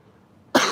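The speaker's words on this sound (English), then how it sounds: "Sorry for all the coughing and sound effects." A single sharp cough bursts out loudly after a moment of near silence.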